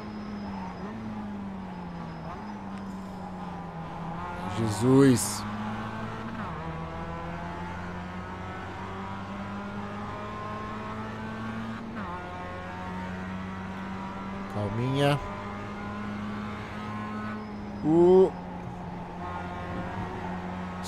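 Mazda MX-5 race car engine lapping Summit Point in iRacing, a steady droning hum with repeated sharp revving spikes at gear changes, someone briefly speaking over it.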